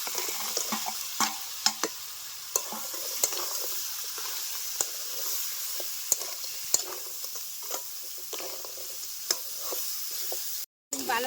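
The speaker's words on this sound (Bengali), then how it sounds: "সবজিগুলিকে আমি ভালো করে কষিয়ে নিয়ে নিয়েছি এখন আমি দিয়ে দিব বেজে রাখা কাঁকড়াগুলি" Fried crabs being stirred into cooked vegetables in a pan, with a soft constant sizzle and repeated clicking scrapes of the spoon at an uneven rhythm, close by.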